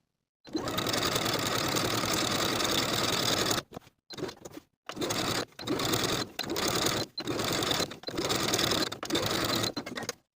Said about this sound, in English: I'll sew my shirring on the front bodice in the exact same way as we did for the back bodice